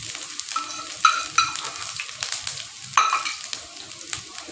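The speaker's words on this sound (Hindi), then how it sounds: "मैं इसके अंदर डाल दूँगी अदरक लहसुन" Ginger and garlic sizzle in hot oil on a tawa for a tempering, a steady close frying hiss with a few louder spits and the scrape of stirring.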